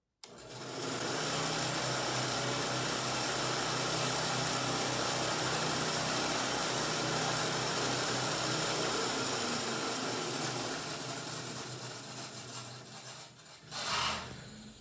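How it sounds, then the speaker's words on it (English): A worktable sawmill's replacement motor runs with its blade spinning, a loud steady whirring drone that holds for most of the stretch before winding down near the end, with no talking. "I believe the blade is going much faster than it did with the treadmill motor"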